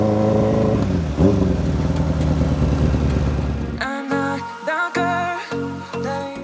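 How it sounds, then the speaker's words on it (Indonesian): A Honda CB400 converted to a bobber, with a deep custom exhaust, idles with a low rumble, then blips the throttle in several sharp revs near the end. "audio suaranya knalpot yang kita bikin nggak bikin tetangga ngamuk gitu."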